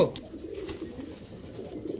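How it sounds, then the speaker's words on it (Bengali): Crested pigeons being sold by a street pigeon vendor coo softly and continuously at close range, low murmuring calls repeating with no talk over them. "টোটাল 2 জোড়া কবুতর, দোনো জোড়াই ঝুটিওয়ালা মাথায়"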